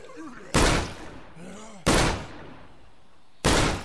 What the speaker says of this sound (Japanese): やっぱこのね、武器のね、発砲音がね、いい感じに重いっていうの結構大事なんですよね。